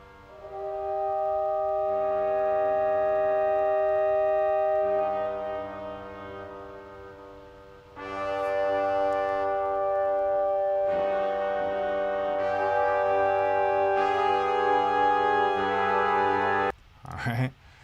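Brass horn section playing sustained chords in a film score mix, drenched in reverb with delay echoes trailing each phrase; the harmony swells and shifts across several held passages before cutting off abruptly near the end.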